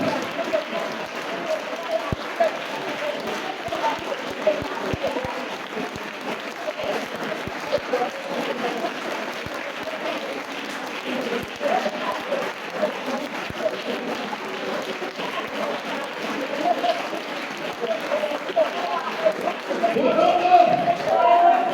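A church congregation claps and cheers in a steady, dense wash of crowd noise that swells near the end, with voices mixed through the applause.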